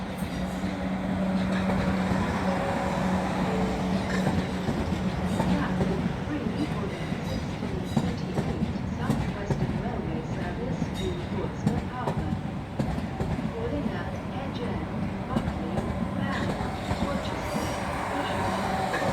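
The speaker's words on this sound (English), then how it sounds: "Mind the gap between the train and the platform" A train at the Portsmouth Harbour station platform gives a steady, close rumble and rattle that runs throughout, with voices talking over it.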